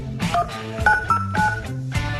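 Telephone keypad buttons are pressed while dialing, giving a quick series of short, close electronic tones.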